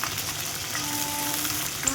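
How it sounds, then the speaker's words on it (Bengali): Green peas sizzling in hot oil in a wok, a steady, close frying crackle with light stirring scrapes and no voices. "কড়াইশুঁটিগুলো দিয়ে দিলাম"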